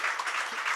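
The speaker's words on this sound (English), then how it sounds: "No matter what you say, he's going to clap." Dense applause from an audience at the launch event for a research report, a brief continuous burst of many hands clapping at steady loudness with no talk over it.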